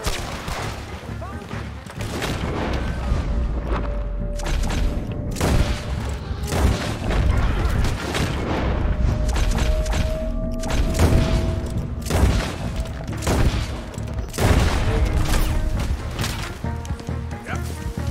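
Gunfire rings out in a Red Dead Redemption 2 shootout, with repeated sharp shots and booms scattered across a loud, busy battle mix and occasional voices.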